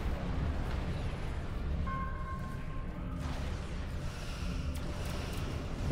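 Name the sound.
photon torpedoes firing in a Star Trek video game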